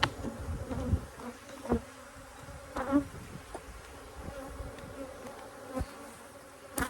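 Bees buzz around a weak, queenless hive close by, a continuous insect drone with individual bees zipping past the microphone and occasional soft knocks and bumps, no voices.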